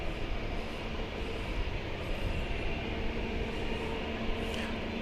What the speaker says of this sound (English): And the UPS MD-11 has been cleared for takeoff.